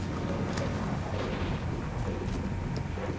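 Semi-automatic weapon fire in the video game Destiny makes a dense, continuous booming roar of rapid shots and blasts, loud and close throughout.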